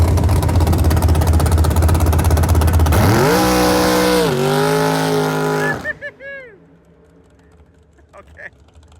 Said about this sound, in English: We have successfully completed a burnout.